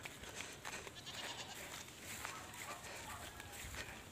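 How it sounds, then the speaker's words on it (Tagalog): Goats at a farm drinking water in hot weather, heard as a dense, continuous wash of close rustling and shuffling with faint bleat-like calls, no speech. "Papainom sila ng kambing."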